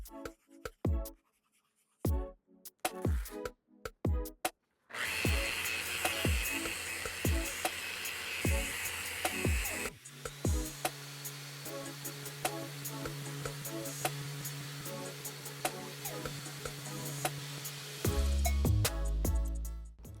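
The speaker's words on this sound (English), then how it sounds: "I'll be sanding from 80 grit all the way to 180" An end grain wooden cutting board is power-sanded from 80 to 180 grit, a steady abrasive whir with bursts of scratching and brief pauses, close and fairly quiet.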